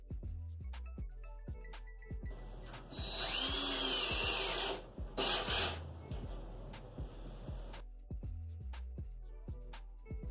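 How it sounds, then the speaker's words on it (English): A power drill whines in a sustained burst for a couple of seconds, driving screws into a wall mount for a pivoting toilet paper holder, surrounded by quieter tapping and background music. "We drilled in the top screws of each mount first before drilling in the bottom ones."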